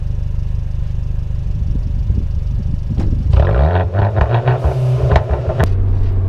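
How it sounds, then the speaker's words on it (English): Exhaust of a 2013 Dodge Dart with a 1.4L turbo engine, heard idling loud and close, then blipped through a few rising revs and settling back to a steady idle. "All right, and for the exhaust clip."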